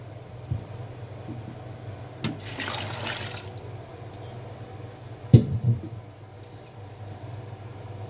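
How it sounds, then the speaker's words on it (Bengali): Water is poured into a pot of half-boiled jackfruit seeds and beans in a single brief splashing pour of about a second, moderately loud amid a quiet kitchen background, with no talking. "হাফ সিদ্ধ হওয়ার জন্য দিয়ে দেবো পানি"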